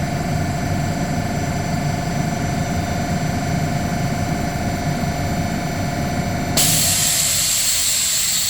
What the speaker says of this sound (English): You can hear the pressure release on the backside.